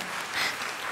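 A short stretch of dense, steady clapping from a small group, fairly close, filling the whole moment with no talk over it.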